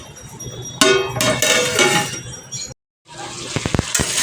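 A cooking pan on the stove with fish and coriander gets covered, a clinking metallic clatter over a frying sizzle, a brief silent gap, then sharp rattling taps of the lid settling, close and loud.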